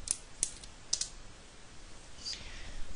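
A few sparse, faint key clicks sound on a computer keyboard as a command is typed at a Windows command prompt, close and quiet over a soft background hiss.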